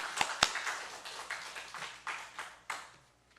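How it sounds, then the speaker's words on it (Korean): Scattered claps from a church congregation, a few sharp individual hand claps followed by a thin, uneven patter that fades out, quiet and distant. "하나님께 영광의 박수 돌리겠습니다"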